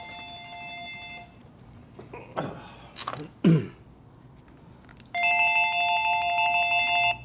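A telephone rings in a motorcycle workshop during a 1958 Harley-Davidson Panhead 74ci rebuild: repeated electronic trill bursts at the start and again near the end, with brief handling noises and a short spoken word between.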